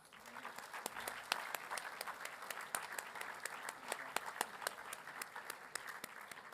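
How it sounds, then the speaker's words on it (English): A school assembly crowd applauds students at a trophy presentation, a sustained patter of many hands with sharp individual claps standing out close by throughout. "Let's give them a huge round of applause."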